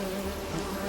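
A fly swarm hums steadily in The Witcher 3, a brief, even, close buzzing with no voices.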